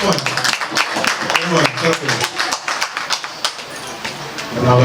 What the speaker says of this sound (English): Clap him one.